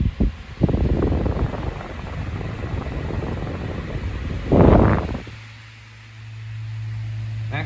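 A Westinghouse 16-inch pedestal fan running with a five-wing blade set gives a steady, loud rush of airflow, with a brief louder surge partway through and then a lower, even motor hum.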